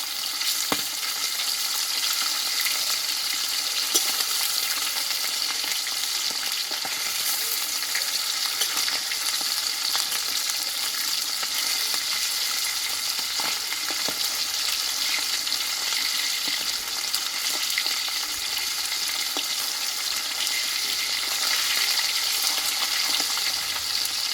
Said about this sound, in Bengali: দেখো বন্ধুরা মাছগুলো কিন্তু ভাজা হয়ে গেছে আমি তেল থেকে তুলে নেব